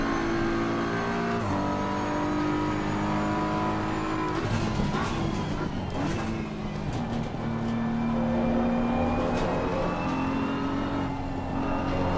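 A car is driven hard with a Bentley and a Porsche close behind, its engine droning and shifting pitch through gear changes, with tire squeals and road noise rising in the middle, loud and continuous.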